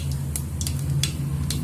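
Mustard seeds splutter in hot oil in a pan while tempering for rasam, a few sparse sharp pops crackling over a low steady hum, fairly faint.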